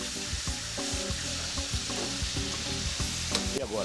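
Palm oil and garlic sizzle steadily in a pan while a spoon stirs and scrapes through them in repeated strokes, a close, continuous fry with no talking.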